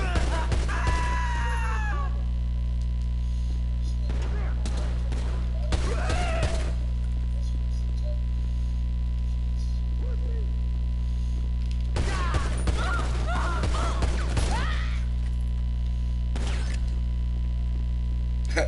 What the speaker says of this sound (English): I think one of the guns just shot.